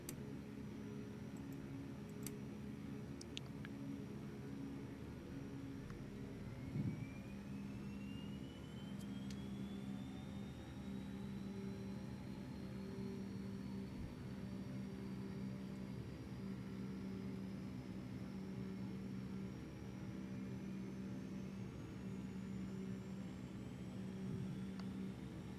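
Beechcraft King Air T44C turboprop engine spooling up in a flight simulator, a steady low drone with a slowly rising whine that climbs over about twenty seconds, plus faint clicks and ticks.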